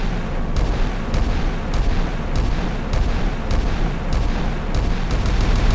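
Dense, continuous rumbling barrage from a war video game with a DragonFire laser weapon, low booming bursts repeating at roughly half-second to one-second intervals under a steady roar, loud and close, no talking.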